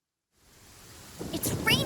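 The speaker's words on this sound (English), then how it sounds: "It's raining again." Rain fades in from silence with a low rumble of thunder building underneath, growing louder toward the end, in the video game Genshin Impact.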